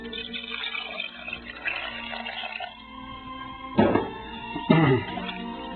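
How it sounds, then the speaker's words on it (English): Water is poured into a pot of lentils and ditalini pasta, making a close, bubbling, splashing gush with a couple of louder sloshes near the end. "and add more water"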